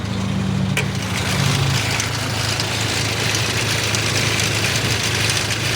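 A car engine runs steadily at idle with a rough, grinding mechanical undertone from a fault in the engine, loud and close, and a brief click near the start.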